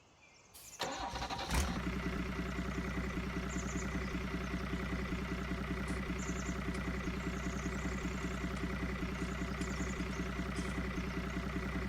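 A tractor engine in a farming simulation game cranks briefly and catches, then settles into a steady, loud, rumbling idle that continues evenly to the end, with no voices.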